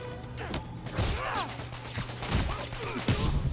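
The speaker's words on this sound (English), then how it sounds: "I'm getting shot right now." Bursts of gunfire aimed at Spider-Man in a Spider-Man video game crackle through a busy, noisy battle mix, with sharp cracks and clatter repeating close by.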